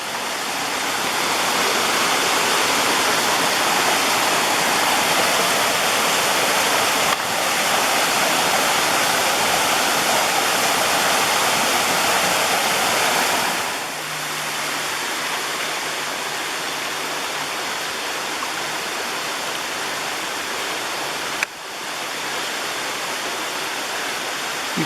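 A steady, full rush of flowing water from a stream in the NC South Mountain Gamelands, close and continuous, with a brief lull in intensity partway through.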